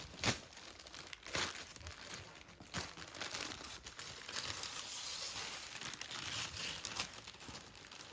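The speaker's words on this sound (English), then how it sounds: "I wanted to neatly tear this up" Paper packaging on a parcel being torn open by hand, a steady close crinkling and ripping that goes on throughout with a few sharper tears.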